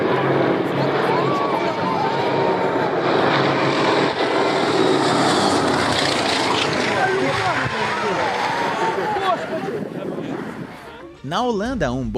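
Airplane engines roar loudly and steadily as aircraft come in to land, with the drone easing near the end and a voice speaking over it.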